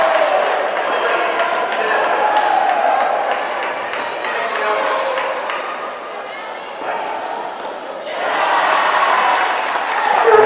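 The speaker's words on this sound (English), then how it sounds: "that's really brought the home crowd alive" Home crowd cheers and applauds at an indoor cricket grand final between Queensland and ACT, with a steady roar that dips briefly and then surges again, while commentators talk over it.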